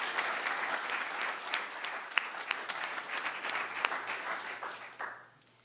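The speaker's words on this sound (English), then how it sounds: "So please give our sponsors a big round of applause." A seated audience applauds sponsors at a collegiate new venture competition, a dense wash of many hands clapping steadily for several seconds before thinning out and fading at the end.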